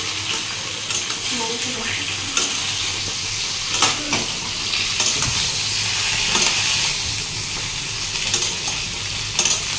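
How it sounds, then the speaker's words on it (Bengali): Mango pieces fry and get stirred in a kadai, with dense continuous sizzling close up and scattered scraping knocks of the stirring spoon throughout. "এই যে ভালো করে আমটা কিন্তু ভেজে নেব"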